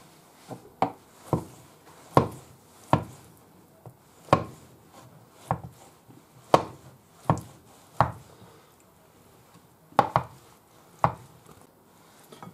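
A knife chops avocado gazpacho ingredients on a board, about a dozen sharp, close thuds at an unhurried, slightly irregular pace, with no one talking.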